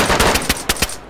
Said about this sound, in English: Is that him shooting?